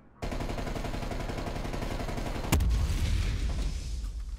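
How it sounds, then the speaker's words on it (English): A grenade goes off in a prop hunt video game, one sharp loud boom that cuts through a dense, steady layer of game sound and leaves a rumbling tail. "That was, like, an Oppenheimer explosion right there."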